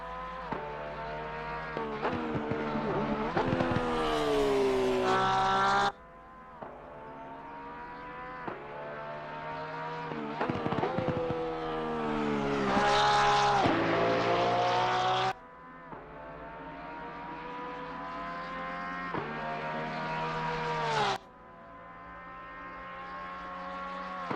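Race car engine in the video game Assetto Corsa Competizione, loud and close, revving high through a corner and winding up with clear gear shifts. No voices.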